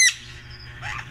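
Pet African lovebirds give a sharp, loud squawk at the start, followed by softer chirping calls near the end of a very short moment.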